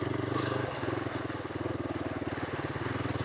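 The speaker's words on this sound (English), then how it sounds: "Put it in second. Let it plod away." A GPX off-road motorcycle engine plods along in second gear with a steady, low, evenly pulsing thump, close and continuous, and a faint voice briefly underneath.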